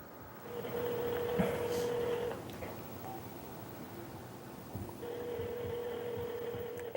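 A telephone rings twice in a quiet room, each burst a steady electronic trill lasting about two seconds, separated by a short pause, with faint background rustle.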